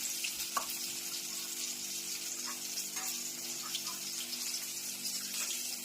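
Tomatoes fry in a Gujarati tempering for a sev-tomato curry, giving a quiet, continuous sizzle with faint crackles and a low steady hum underneath.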